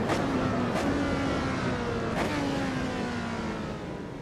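Lotus 72 race car in Assetto Corsa, a high engine whine climbing steadily through the gears with brief sharp shift breaks, continuous and fairly loud with no talking.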